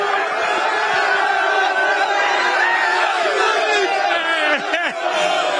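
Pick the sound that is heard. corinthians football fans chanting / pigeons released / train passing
corinthians football fans chanting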